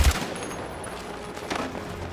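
Rapid automatic gunfire in the video game Battlefield 6, opening with a loud deep boom and followed by sustained, fairly loud bursts of shots with sharp crackling detail.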